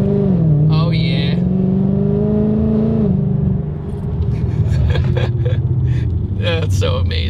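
A 750-horsepower Ford Mustang GT with an RTR front grille and lip revs loudly, its engine tone rising and holding as a steady, heavy roar for several seconds before settling, with some brief higher-pitched clatter and voices mixed in near the end.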